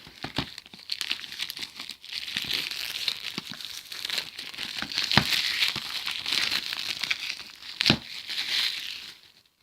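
Plastic film is crinkled and torn off a Blu-ray box set close to the microphone. The crackling and rustling runs continuously for nearly ten seconds, with a few sharper snaps, and no one speaks.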